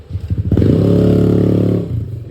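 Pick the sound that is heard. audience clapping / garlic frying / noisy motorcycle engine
noisy motorcycle engine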